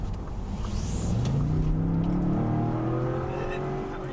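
A 2024 Ford Expedition King Ranch accelerates out of a turn, its engine climbing steadily in pitch, heard from inside the cabin as a smooth, rising hum with tire and road noise beneath.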